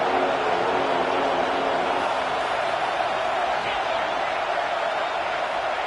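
Home crowd at a football game roars in a steady, dense wash of noise as the defense tries to get off the field on third down, and the crowd noise continues without a break.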